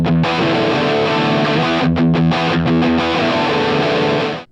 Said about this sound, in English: Then we get into the chorus, which is pretty similar.